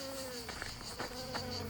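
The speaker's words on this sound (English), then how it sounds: "Mosquitoes, oh my gosh." Mosquitoes swarm near Wanda Lake on the John Muir Trail, making a constant thin, high-pitched whine close to the ear, with a few faint clicks and rustles underneath.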